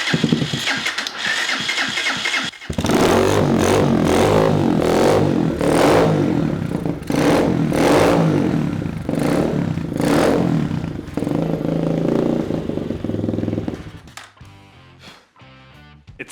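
A broken pit bike converted to look like a mini KTM cranks a few times, then fires up and revs in repeated rising bursts, loud and close, before settling and cutting out near the end.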